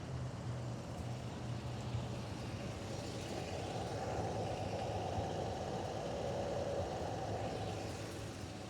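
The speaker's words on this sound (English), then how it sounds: "Smooth running 235 inline 6 Stovebolt." A 1958 Chevrolet Apache step-side pickup with its 235 inline-six Stovebolt engine idling smoothly, a steady low rumble running throughout with no talk.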